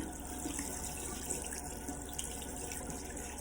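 Water runs steadily from a bathroom tap into a sink during face washing, a soft, even splashing stream that stays fairly quiet and continuous with no talking.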